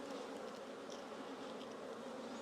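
Honey bees around a hive on a warm day of about 23 to 24 degrees, giving a steady, faint, unbroken buzzing hum with no other sounds over it.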